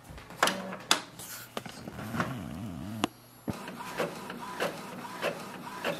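An Epson XP-4200 inkjet printer runs a print job: rapid mechanical clicks, the print head carriage whirring back and forth, and paper feed rattles, close and fairly loud with no talk.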